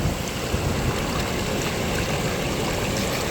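Water in a mountain stream rushes in a steady, dense wash of broadband noise, close and unbroken throughout, with no voices over it.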